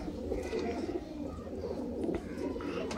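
Teddy pigeons kept by a breeder in Sialkot give a steady, low, throaty cooing that runs through the whole stretch, close by and moderately loud against a busy background murmur.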